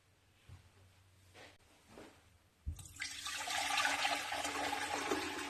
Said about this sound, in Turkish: Yavaşça dökelim. Tamamen boşaltıyorum.